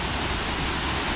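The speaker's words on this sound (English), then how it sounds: "there's Hazelgill Force in full flow" Hazelgill Force, a waterfall in full flow near Wild Boar Fell, roars as a steady, dense broadband rush of falling water, close and constant throughout with no talk over it.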